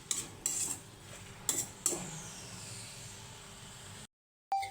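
A utensil scrapes and clinks against a cooking pan while ridge gourd and cumin are stirred, with a few sharp metallic knocks over a soft, steady sizzle, close by, ending in brief silence.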